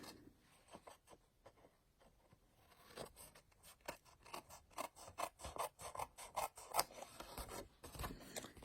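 Scissors snip away excess paper from a handmade Christmas card, a run of close, dry rasping cuts that start sparse and quicken into a steady rhythm of crisp snips, with no talk.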